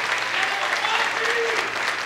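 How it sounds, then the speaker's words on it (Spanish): A crowd at a stand-up comedy show applauds in a thick, continuous wash of clapping, loud and even, with faint voices mixed in. "Un aplauso."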